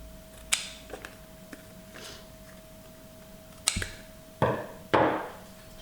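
Scissors cut the corners of paper for a scrapbook album, several sharp close clicks and snips scattered unevenly, the last few louder, over a quiet room with a steady faint hum.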